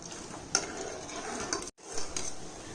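Sugar candy syrup heating in a pan simmers and begins to boil, giving a soft steady bubbling hiss with a few faint clinks from the pan.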